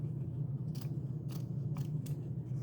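Scissors snip through burlap fabric while a sewing pattern is cut out, four distinct crisp cuts spaced about half a second apart, close by over a low steady background hum, with no talking.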